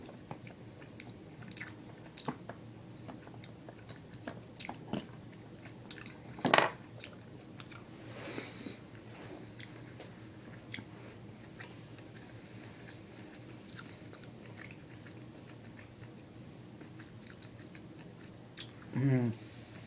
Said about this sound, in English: Give it a couple quick chews.